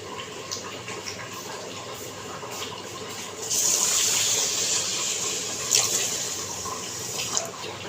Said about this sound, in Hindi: यहाँ पे 3 कप मैं पानी के डालूँगी